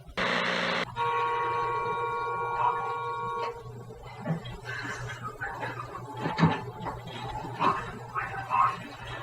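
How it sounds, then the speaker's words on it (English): A loud, sustained car horn blares for about a second, then a second long steady honk follows, with traffic noise and scattered sounds afterward. "He honked. That was just a response."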